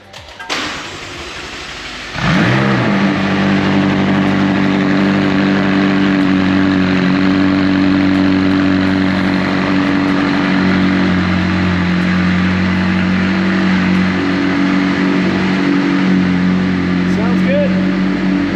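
A McLaren 600LT coupe cold-starts after a couple of seconds of near quiet, catching with a loud burst. It then settles into a steady, close, rumbling idle.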